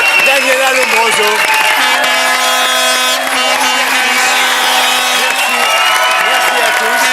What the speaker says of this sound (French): On applaudit Daniela Lombroso